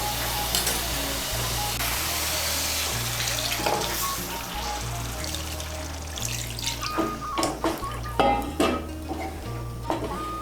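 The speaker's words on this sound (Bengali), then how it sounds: "আমি এর মধ্যে 2 কাপ জল দিচ্ছি।" Two cups of water go into a pan of simmering spiced Bengali curry, a continuous pour and sizzle with a low hum underneath and a few clinks of bowls toward the end.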